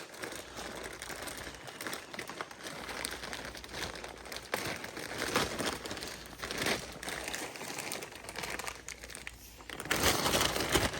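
An old upper ball joint being ripped out of a vehicle's suspension, with steady crunching and grinding noise that runs continuously and grows louder toward the end.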